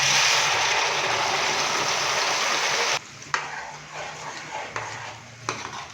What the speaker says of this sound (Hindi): तो अभी हम इसके अंदर टमाटर, सब्ज मिर्च और अदरक लहसुन का जो हमने पेस्ट तैयार किया है वो डालेंगे